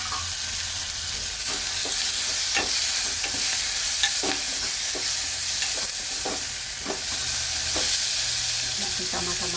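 Onions and tomatoes frying in a pan for an Indian breakfast curry, a loud steady sizzle close by with scattered sharp pops and clicks of stirring throughout.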